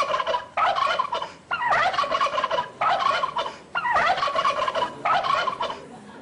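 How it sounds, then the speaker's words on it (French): A turkey gobbles five times in loud bursts, each rapid rattling call about a second long, with short pauses between them. The cry comes from a recording played aloud. "Voilà, c'est le dindon."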